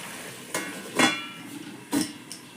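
A metal lid clatters back onto a cooking pot of telakucha greens in a Bengali kitchen, giving two main ringing clanks with smaller taps between them, close and fairly loud with no talking.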